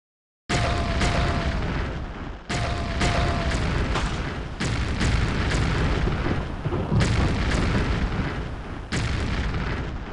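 A series of heavy airstrike explosions in the strategy game Dark Reign 2, loud booming blasts landing one after another with rolling, crackling decay between hits.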